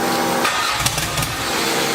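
An 850-horsepower Toyota MR2 build engine cranks and catches on its first startup, settling into a loud, steady running rumble close by, with a few sharp bursts along the way.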